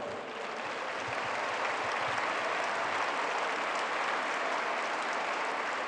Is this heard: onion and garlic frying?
no